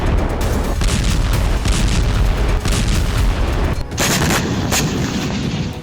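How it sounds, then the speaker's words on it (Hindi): Bombing in the Lebanese town of Maroun brings loud, continuous booms and blasts, heavy and crackling like sustained gunfire or artillery, with a few sharper impacts near the end. "इजरायल ने लेबनान के मारूफ शहर में जबरदस्त बमबारी की।"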